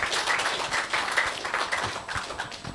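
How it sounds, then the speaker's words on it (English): Audience applause at an investment conference in Bulawayo, a room of scattered hand claps mixed into a steady patter that continues throughout and eases slightly toward the end. "Let's give Mike a round of applause, ladies and gentlemen."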